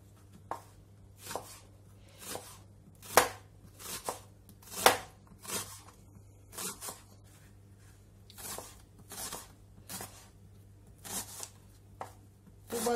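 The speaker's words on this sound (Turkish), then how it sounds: "Soğanlarımızı böyle jülyen şeklinde doğrayalım" A knife chops onions into julienne strips on a cutting board in steady, separate strokes, roughly one per second, close and fairly quiet, with no talking.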